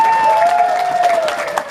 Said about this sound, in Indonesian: banyak sekali yang tepuk tangan ini